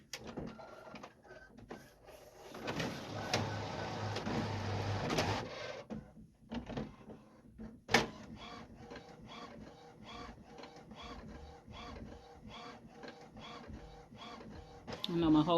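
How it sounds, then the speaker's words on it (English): An inkjet printer prints an edge card, starting with a sustained mechanical whir, then a rapid regular series of carriage clicks and shuttles, with someone talking faintly in the room. "All right, so we got it getting ready to print out here."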